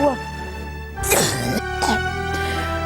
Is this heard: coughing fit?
yes